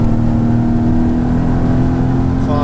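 A supercharged Mercedes-Benz E55 AMG W210 fitted with a Kleemann 55-K2 supercharger pulls hard under heavy load in third gear at around 4,500 rpm, giving a steady, loud engine drone with a strong low hum and no pause.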